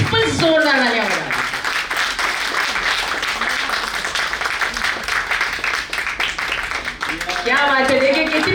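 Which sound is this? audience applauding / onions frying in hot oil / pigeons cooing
audience applauding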